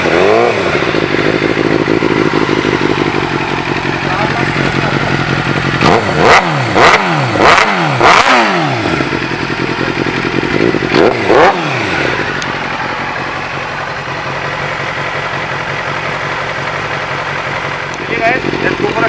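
A remapped Suzuki GSX-R motorcycle engine idles, then blips through several sharp revs and snarling throttle bursts before settling back to a rough idle, close and loud, with someone talking over parts of it.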